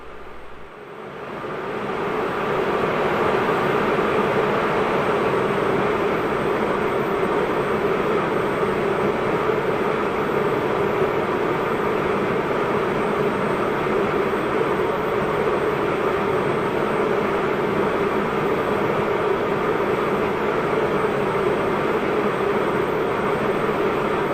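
A Cri-Cri light aircraft landing in X-Plane 11 at Corfu: the small engine fades in, then holds a steady, loud, droning hum without break to the end.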